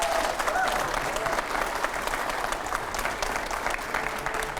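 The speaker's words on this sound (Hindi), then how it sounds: "और जोरदार तालियां हो जाए।" A studio audience at a televised news programme applauds in a sustained, dense roar of clapping that stays even throughout, with a voice faintly audible near the start.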